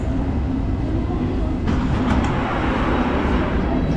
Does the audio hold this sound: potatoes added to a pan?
no